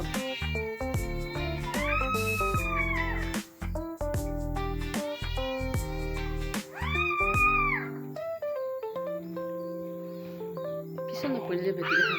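A cat meows in drawn-out, rising calls, several times over a sustained musical background with a voice present, loud and close.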